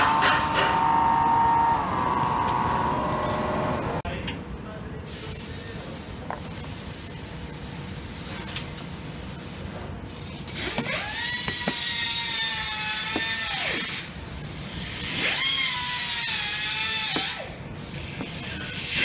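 Power tool driving screws into a car part on a Tesla at a high school car show: loud bursts of whirring drive with rising pitch, two long runs near the end, over a noisy background.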